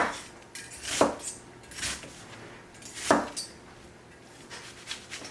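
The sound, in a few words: knife cutting tomatoes through the middle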